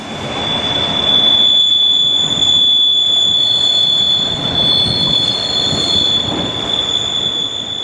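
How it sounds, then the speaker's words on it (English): A Class 60 diesel locomotive on a railtour making a reversing move, wheels squealing with a sustained high-pitched screech over a steady rumble of rolling stock, loud and close. "a Class 60 joined in for a reversing move"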